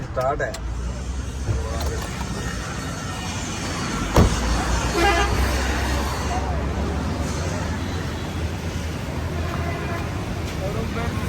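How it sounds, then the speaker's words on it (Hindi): A car idling with its key removed at a crowded car showroom in Multan, a steady low rumble under lively crowd chatter and nearby voices, with a brief clunk partway through. "चाबी निकली हुई है और गाड़ी स्टार्ट है"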